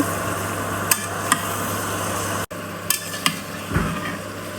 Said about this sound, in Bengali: এবার মশলা দিয়ে ভালো করে কষিয়ে নিতে হবে